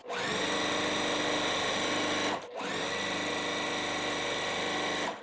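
A sewing machine stitches small fabric accent pieces onto a quilt block in two long, steady runs of motor whir, split by a brief pause, close and loud.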